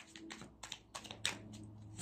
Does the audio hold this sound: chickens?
no